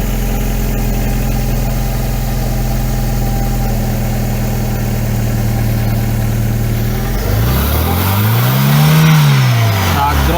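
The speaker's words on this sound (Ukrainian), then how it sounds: "Запускаємо автомобіль і дивимося." A VW Passat with the BSF petrol engine cranks and starts, then idles steadily with a low, continuous hum. Near the end the tone swings up and back down in one smooth rev.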